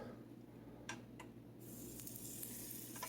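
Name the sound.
chicken sizzling in a frying pan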